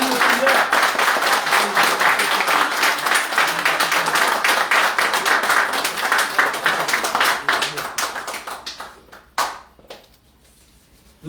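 Congregation in a church baptism service breaking into sustained, dense applause, loud and close for most of the stretch, then thinning into scattered claps and fading near the end.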